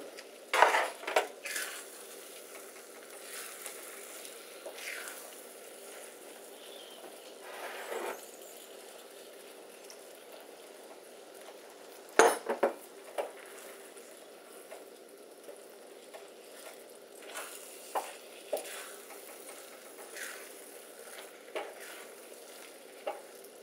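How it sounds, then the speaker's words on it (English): Roasted mushrooms and cream are folded into risotto in a pot, a low steady simmer broken by irregular scrapes and clinks of a utensil against the pan, with no voices. "Next we're going to gently fold in the roasted mushrooms and we're going to start adding the cream about a half"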